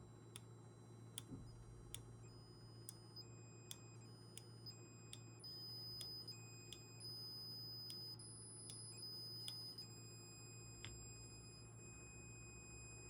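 A thin, steady high-pitched PWM whine from an electronic circuit, with several tones that shift and switch on and off, over a low constant hum, with faint ticks.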